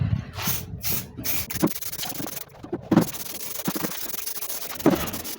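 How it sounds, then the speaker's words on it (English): A spray gun hisses in several short bursts with brief pauses between them, close by, spraying coating onto a fiberglass mold for a BMW wide body kit, alongside some rubbing and handling noise. "So right now I'm going to apply my spray."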